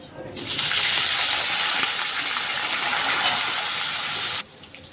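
Potatoes frying in hot oil with cinnamon, cloves and cardamom, a steady loud sizzle that starts abruptly, holds evenly for about four seconds, then cuts off.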